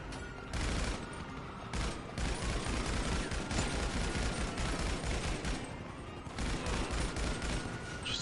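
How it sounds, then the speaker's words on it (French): Gunfire in the video game GTA 5 comes as loud, dense, sustained bursts of shots, with a few brief gaps in the continuous fusillade. "Et puis il me retire dessus."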